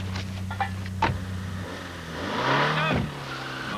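A Renault 19 Chamade saloon car engine revving, a brief rising growl that swells toward the end after some light clicks and thuds, fairly close.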